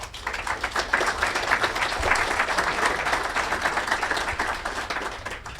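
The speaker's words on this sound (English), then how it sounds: "let's give them all a round of applause." A cybersecurity event audience in Chicago breaks into a steady round of applause, dense continuous clapping from many people that holds for several seconds at even loudness.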